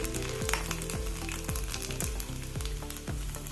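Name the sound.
coconut pieces frying in ghee in a pan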